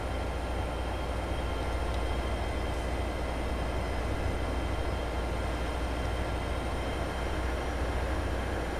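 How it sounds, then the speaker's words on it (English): A Class 802 train approaches in Train Sim World 6 on the Paignton to Exeter St Davids line, a steady broadband rumble and rail roar holding at constant loudness throughout with a faint high whine above. "Oh, and the train's coming."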